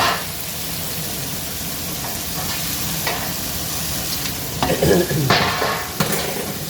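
Chicken tikka boti sizzles and fries in a pan, a continuous hiss with scraping stirs and a few louder bursts of crackle toward the end.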